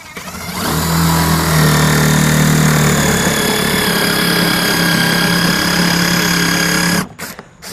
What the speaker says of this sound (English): you need to go ahead and countersink the centers on these 2 boards only